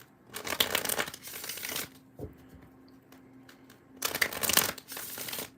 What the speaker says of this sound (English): Why doesn't this deck want to shuffle?